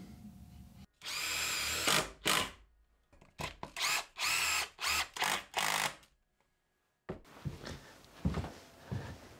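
Cordless power drill driving screws into cheap plywood pieces in a workshop, several separate bursts of whirring, each about a second long, with short pauses between and a quiet stretch near the end.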